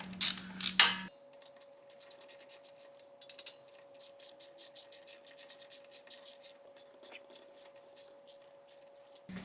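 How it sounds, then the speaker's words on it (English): A ratchet wrench loosens the exhaust header bolts on a Yamaha FJ09, quick rhythmic clicks in a steady run of strokes, close and crisp, following a brief louder scrape at the start. "So we loosened up the bolts for the headers."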